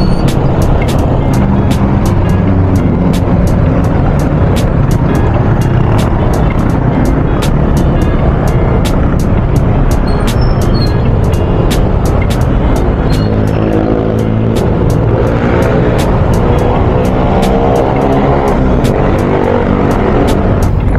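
Rush hour road traffic near Manila heard from a Honda Click scooter: a dense, steady roar of cars and trucks close around, with wind buffeting throughout and no talk.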